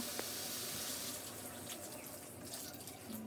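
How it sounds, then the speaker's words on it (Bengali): Water pours steadily into a pot of curry, a continuous soft rushing sound close by with no talking. "ঝোলের পানিটা অ্যাড করে দেব।"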